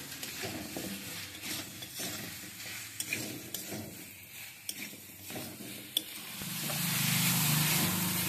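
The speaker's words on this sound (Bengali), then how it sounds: "এবার আমি ভেজে রাখা সারো কচুগুলো মশলার মধ্যে দিয়ে দিলাম। এটা দেওয়ার পর আরো একবার কষে নিচ্ছি ভালো করে" Fried taro pieces are stirred into a spice masala in a pan, with scraping stirs and a few sharp utensil clicks over a sizzle that swells into a louder, steady fry at the end.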